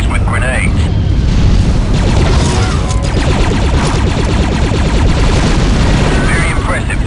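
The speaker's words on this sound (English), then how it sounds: "The only way to take out that gun emplacement is with grenades." Grenade blasts and heavy booming gunfire tear apart a gun emplacement in Star Wars Republic Commando, a loud, dense barrage of explosions and rapid crackling shots running continuously with a voice briefly audible.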